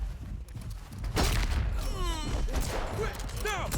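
Enemy gunfire in Atomfall, several fast, loud volleys of shots close by, mixed with game impacts and effects, as a voice talks over the shooting.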